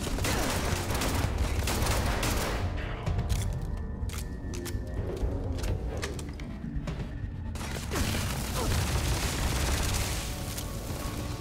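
Bursts of gunfire from a weapon in the Starfield video game crack out in rapid clusters, loud and close, with a brief lull in the middle before the shooting resumes with clanking mechanical sounds.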